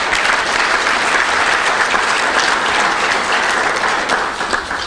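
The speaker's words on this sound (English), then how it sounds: "Let's have a round of applause for Johanna Bond in the office." Loud, close audience applause at a chamber of commerce breakfast, dense continuous clapping holding steady for several seconds before easing slightly at the end.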